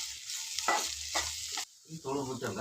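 Chili powder stirred with a spoon into a vegetable palya frying in a pan, with close scraping strokes in a few rhythmic bursts over a continuous hissing sizzle.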